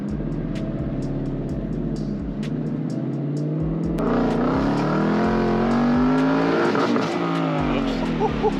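Ford Mustang GT converted to Shelby GT500 spec revs hard and accelerates from inside the car, its engine note climbing through rising pulls with shifts between them, loud and close, while people talk over it.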